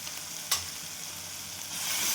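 Chickpea leaves sauté in hot oil with turmeric, a close, steady sizzle with one sharp clink of a utensil early on, the frying swelling louder toward the end.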